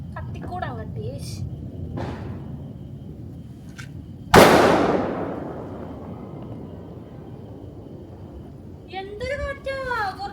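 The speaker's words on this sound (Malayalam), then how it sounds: "അങ്ങനെ കണി കണ്ടു കഴിഞ്ഞ് നമ്മൾ പടക്കം പൊട്ടിക്കാൻ പോവാൻ" A single loud firecracker bursts during Vishu celebrations outdoors on a windy morning, a sharp bang with a trailing crackle, amid background chatter and people talking before and after.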